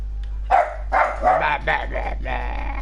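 A dog in GTA 5 Online barks in a quick run of five or six loud, close barks over a steady low hum, with no one talking.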